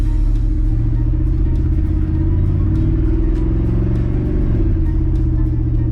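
A diesel OBS-era Ford pickup truck engine runs and drives, a loud, close, steady low clattering rumble with slight rises as it moves off.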